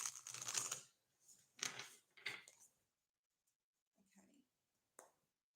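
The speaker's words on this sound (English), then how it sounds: "I'm going to start shuffling again." Tarot cards are shuffled in several quick, crisp riffling bursts close up, followed by softer taps and a single click at the end, with no voices over them.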